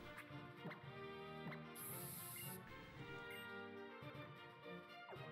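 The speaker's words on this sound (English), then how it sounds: "let's go spray some repel on us." A repel is sprayed in the Pokémon X video game, a short bright hiss of spray over looping game music with chirpy tones, no talk.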